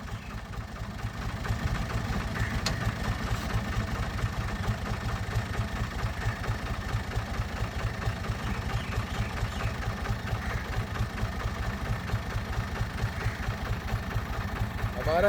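A tractor with a stuck gear idles steadily, a low, pulsing diesel throb held at an even level throughout.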